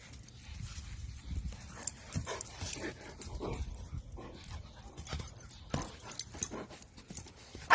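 An excited dog pants, whimpers and yelps close by, with quick scrabbling and clattering noises from its paws between the bursts.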